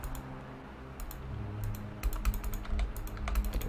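Computer mouse clicks and keyboard taps while playing the game Manaquin, a series of sharp, close, irregular clicks that grow busier toward the end over a low steady hum, no voices.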